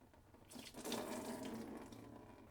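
Coolant drains from the radiator petcock valve of a BMW 325is, a faint, brief trickling and splashing of liquid that swells after a short pause and flows on steadily.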